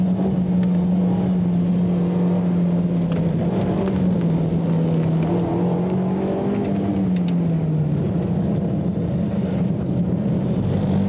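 A loud race car engine drones steadily during a track time attack, its pitch shifting as the car corners and lifting slightly off the throttle near the end. No one speaks.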